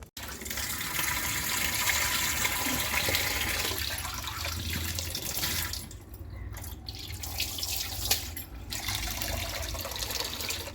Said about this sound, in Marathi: सगळ्यात आधी मी तांदूळ धुवून भात चढवणार आहे